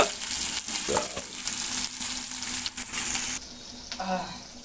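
Chopped onions and green chillies fry in hot oil, giving a close, continuous sizzle with a few utensil knocks, quieter toward the end.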